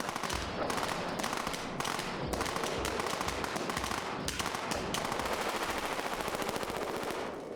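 Machine gun fire on a film set rattles continuously in rapid, loud bursts, with dense overlapping shots and no pause through the stretch.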